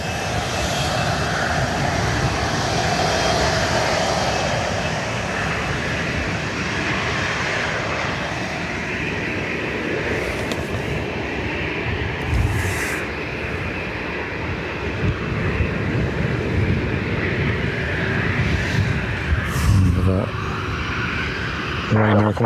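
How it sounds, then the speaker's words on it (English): A Ryanair airliner taxis out at Dublin Airport, its steady engine roar holding for the whole stretch with a few brief clicks and knocks, while a voice talks over it now and then. "Ryanair coming out by the looks of it"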